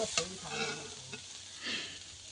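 Quiet frying of gourd leaf paste in a pan with a few scraping stirs and light sizzle, close and soft.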